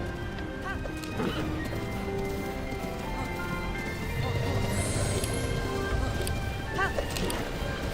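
Horse galloping in Zelda: Breath of the Wild on Master Mode, with steady hoofbeats running throughout under tonal game music, with occasional brighter chimes.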